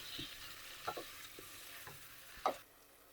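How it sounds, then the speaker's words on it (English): Onions cook in a pan over medium heat with a faint, soft sizzle and a few light stirring taps and scrapes, then the sound drops away at the end. "we're going to cook these on a medium heat until they turn golden"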